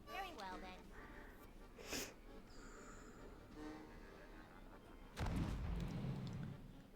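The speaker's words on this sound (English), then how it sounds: "Let's get shot out of a cannon." In World of Warcraft: The War Within, a player is launched from a cannon. A sharp, booming blast lands late and briefly overwhelms the game's ambience, after a stretch of voices talking.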